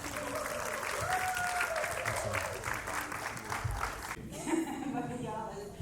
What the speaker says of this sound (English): Y'all clap it up as they come on the stage.